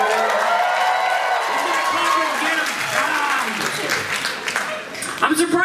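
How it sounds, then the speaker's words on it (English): Comedy club audience applauding during a stand-up set, a loud sustained roar of clapping mixed with crowd cheering and a few whoops, with voices audible through it and a handful of louder claps near the end. "Round of applause."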